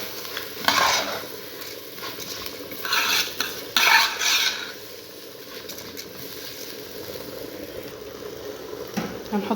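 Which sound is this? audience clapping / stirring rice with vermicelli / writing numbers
stirring rice with vermicelli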